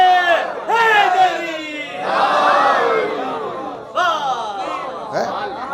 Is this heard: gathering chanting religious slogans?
yes